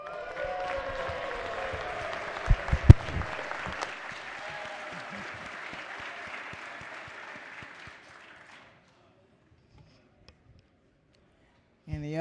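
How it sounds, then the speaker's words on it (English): Lawmakers on a house floor applaud a delegate's birthday, a full room of clapping with a few sharp nearby claps, running about eight seconds and then stopping into near silence. "Could we get a big round of applause for Delegate Foley for her birthday?"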